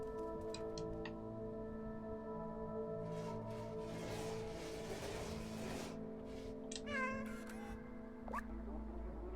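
Cat meows from the video game Stray sound over steady background game music and ambience, a few short calls near the middle and end, moderately loud.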